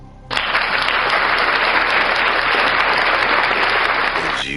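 Applause during a live PS4 game broadcast, starting abruptly and holding at a loud, steady level for about four seconds before cutting off.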